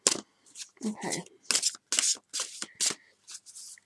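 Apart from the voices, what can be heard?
shuffling large tarot cards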